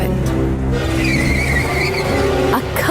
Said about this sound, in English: A car hit Pollyanna.